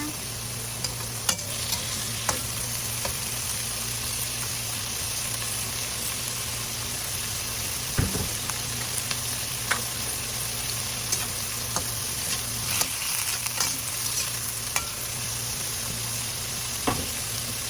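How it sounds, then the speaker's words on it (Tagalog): Bean sprouts and tofu sautéed in a pan, a long steady frying hiss with scattered small spatula clicks and one louder scrape midway, close and continuous with a low hum underneath and no talking. "Igisa lang po natin siya."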